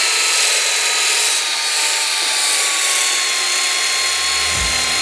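A power drill spins a sandpaper wheel laid on its side, giving a steady close whir with a rough abrasive hiss throughout and a low motor hum that thickens near the end.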